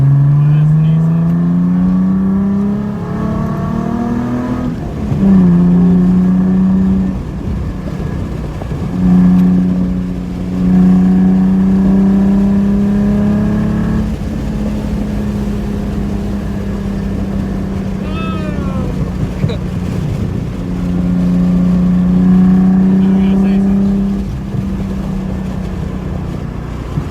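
Deep, throaty exhaust from a straight-piped Nissan 300ZX, or a nearby Sentra, swells through several long revs with rising and falling pitch, loud and close, while people talk over it.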